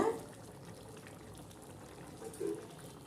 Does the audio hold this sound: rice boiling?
yes